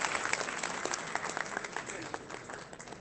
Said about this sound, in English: may we have a very big round of applause